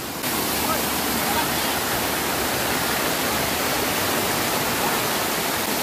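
Sulfuric hot spring waterfall at Mainit Falls in Davao de Oro, a dense steady roar of falling water filling the whole clip at close range.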